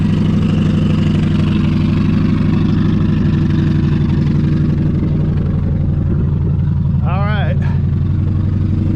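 A car engine idles with a loud, deep, throaty rumble from a wide-open single exhaust muffler, steady and close throughout, with a brief whine near the end.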